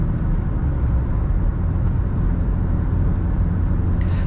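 A Toyota Auris 1.4 D-4D diesel (90 HP) is driven uphill at about 120 km/h under hard throttle near 2500 rpm, giving a steady, loud, dense cabin drone of engine and road noise.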